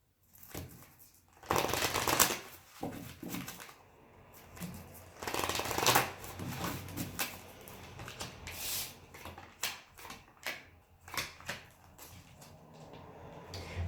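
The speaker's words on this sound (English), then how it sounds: "3 more shuffles." A deck of tarot cards being shuffled by hand in repeated bursts of crisp riffling and flicking, close and fairly quiet, with short pauses between rounds and some lighter tapping toward the end, no talking.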